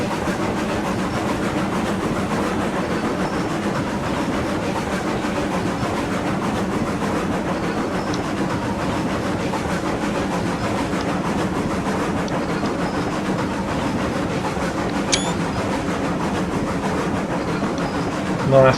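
A locomotive engine in the Railroads Online train game drones on a long climb, a steady mechanical rumble with faint rhythmic rail clatter, continuous and even throughout, with one brief high squeal near the end.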